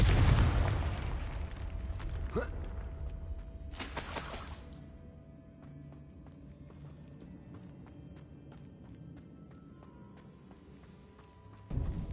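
A Confringo blasting spell in a Harry Potter video game bursts loudly with a shattering crash at the start. A second sharp blast follows about four seconds later, then a long, quiet, fading tail and a thump at the end.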